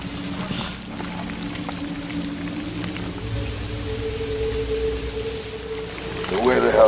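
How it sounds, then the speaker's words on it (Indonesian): Steady rain pouring down, with low background hum and some indistinct sounds mixed in, growing a bit louder near the end. "namun sialnya malah turun hujan"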